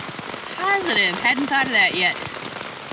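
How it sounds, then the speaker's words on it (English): Steady rain falls through a forest along a clear hiking trail, a soft constant hiss beneath a person talking close by. "with this kind of rain that's been coming down so steadily for so long, the forest is gonna be soaked"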